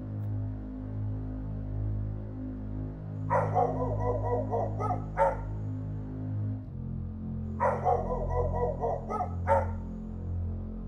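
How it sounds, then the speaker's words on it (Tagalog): Two bursts of dog barking come from a backyard during an animated horror story. Each burst is a quick run of barks and yips at middle distance, set over a constant low electrical hum with no speech. "napansin namin na panay na ang tahol ng mga aso ni lola"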